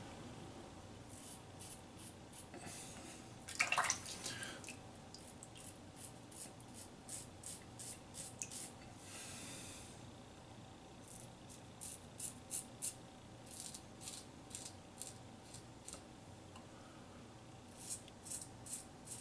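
A razor scrapes across the grain on a second wet-shave pass, a faint series of short, scratchy strokes coming in quick clusters with quiet gaps between them.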